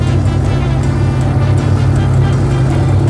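Spec off-road race cars at the Baja 500 in Ensenada, a loud, continuous low engine drone that stays steady and close throughout, with no talking.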